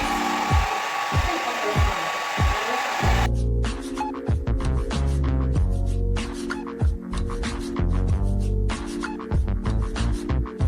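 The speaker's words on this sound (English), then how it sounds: "So guys, I'm just drying it a little bit." A hair dryer blows on hair while it is styled in the Okuku fashion for an Edo burial ceremony. It gives a steady, close whoosh for about three seconds before music with a heavy beat takes over.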